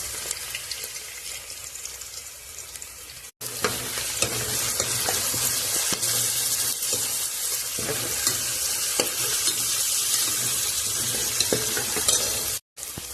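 Onions and ginger-garlic paste fry in a pan with a loud, continuous hissing sizzle and frequent stirring scrapes, heard close up after a brief quieter opening, with two very short cuts.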